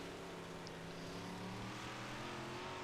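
Big block modified dirt race cars roaring around a dirt track, a steady engine drone with rising and falling pitch, moderately distant and continuous throughout.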